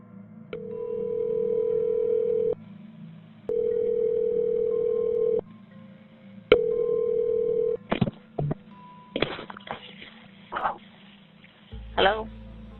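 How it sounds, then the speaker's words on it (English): Telephone call tone from a police officer's call back to a phone during a home invasion in Kalamazoo: three long, steady ringback tones with pauses between them, then bursts of voices and noise over a constant low hum. "Some of the officers who were still outside then called Christopher's phone back, which was answered by William."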